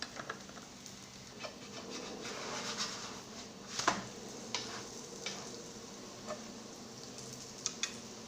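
Msemen flatbread frying in a pan with oil and margarine, giving a soft, steady sizzle with faint scraping and occasional light knocks, fairly quiet and close, with no talking.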